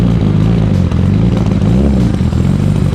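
Mitsubishi Evo engine revving loudly and continuously up close, its rough, uneven pulsing note sounding like it is misfiring, with clattering mechanical noise and no talking.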